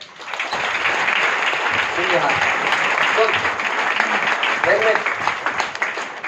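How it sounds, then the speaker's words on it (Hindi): An audience at a motivational seminar in Virar breaks into loud, sustained applause that stays dense and close for several seconds, with a few voices calling out through it. "इनके लिए जोरदार ताली हो जाए"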